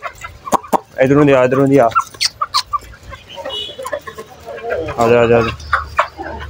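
Backyard rooster and hens clucking on a Punjabi farm in the evening, mixed with calls and talk from a person coaxing the birds over, with bursts of bird sound between the voices.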